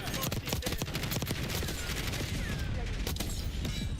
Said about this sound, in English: Oops, I'm shooting at him.